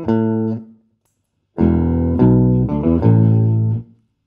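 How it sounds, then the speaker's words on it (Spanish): An electric guitar played through an octaver effect via an OMEC Teleport audio interface sounds a sustained low note, falls silent, then plays a short run of notes with thick, doubled low tones before cutting off. "en el lado izquierdo tenemos un octavador"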